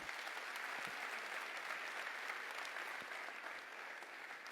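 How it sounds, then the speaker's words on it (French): A comedy show audience applauds in tribute, a soft but steady wash of many hands clapping heard from a distance, continuous throughout. "Vous pouvez l'applaudir,"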